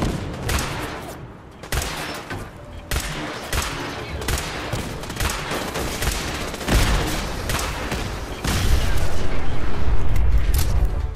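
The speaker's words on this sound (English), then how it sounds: "Big explosion." Bursts of rapid gunfire crackle in a Fallout 4 combat, shots stacking in quick volleys, followed near the end by a loud, sustained grenade explosion rumble; dense, close and chaotic.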